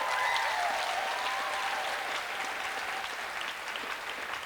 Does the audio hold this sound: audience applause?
yes